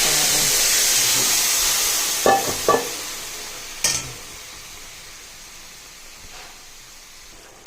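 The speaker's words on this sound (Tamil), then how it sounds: "இப்போ நம்ம கடாய் வச்சு எண்ணெய் ஊற்றி கடுகு ஆட் பண்ணிவிடுங்க ஃப்ரெண்ட்ஸ்." Cooked ridge gourd hits hot oil tempered with mustard seeds and asafoetida in a kadai, giving a loud steady sizzle that fades gradually, broken by a few sharp clinks of a spoon and no voices.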